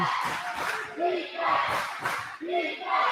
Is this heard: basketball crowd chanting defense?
yes